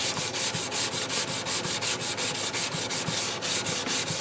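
Wooden case of a German mantel clock being rubbed down by hand, producing steady rhythmic back-and-forth scratchy strokes, close and continuous.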